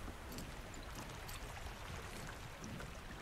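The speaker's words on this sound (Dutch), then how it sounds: "Oh, hier is de waterval. Dubbele waterval." A double waterfall in the video game Star Stable pours with a steady, soft rushing hiss of falling water that stays even and uninterrupted throughout.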